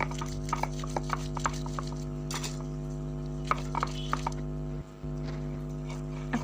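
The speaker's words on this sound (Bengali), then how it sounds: "এখন আমি শিলনোড়ায় বেটে নেব" Fried onion, garlic and chilli are ground on a flat grinding stone, giving faint irregular knocks and scrapes of the stone rocking, over a steady low background hum.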